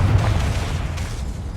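A Confringo fire spell detonates in Hogwarts Legacy with a loud, rumbling boom that lingers as a dense low roar, with no talk over it.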